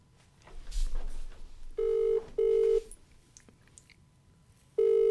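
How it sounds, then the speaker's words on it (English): An outgoing phone call rings back with steady electronic tones in paired bursts, then another begins after a pause, heard over faint background noise and brief murmurs. "All right, let's call Buzz"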